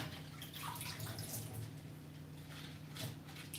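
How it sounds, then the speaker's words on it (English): Water sloshes and splashes steadily as scallions are rinsed in a kitchen, a continuous wet wash over a low hum with no voices. "You have to make sure that the water is being sloshed in"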